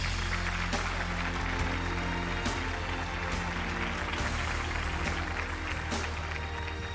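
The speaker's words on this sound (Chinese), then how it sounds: "掌声欢迎小姨" A studio audience on the Chongqing TV show 谢谢你来了 applauds a guest's entrance with dense, continuous clapping over a low, steady hum, held evenly throughout.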